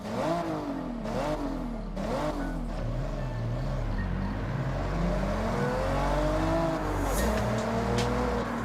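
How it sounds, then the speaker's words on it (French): A Toyota Supra engine in the Forza Horizon racing game revs and climbs through gears, with repeated rising and falling engine tones over a steady low drone and no voices. "ça ressemble à un bruit de Supra, on ne peut pas s'y tromper"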